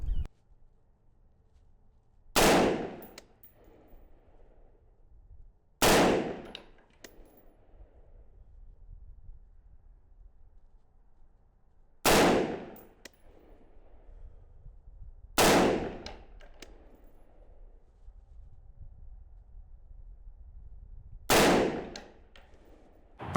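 Five loud, isolated rifle shots from a Palmetto State Armory rifle at an outdoor range. They are spaced several seconds apart, each a sharp crack with a short ringing tail over quiet background noise.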